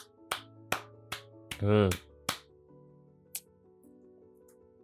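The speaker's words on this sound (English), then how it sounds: "I'm making clapping noises" A person claps their hands in a sparse, uneven series of sharp single claps, close and dry, with a brief spoken word in the middle.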